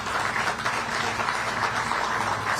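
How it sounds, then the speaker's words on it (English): Applause from a crowd gathered outdoors at a groundbreaking ceremony for a New Jersey rail bridge replacement, a steady, dense wash of clapping that runs the full length at an even, moderately loud level with no speech over it. "They deserve a round of applause."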